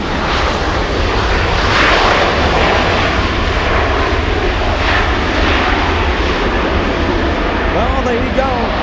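Asiana airliner jet engines roaring continuously at LAX, a loud, broad, sustained wash of engine noise filling the whole stretch without a break.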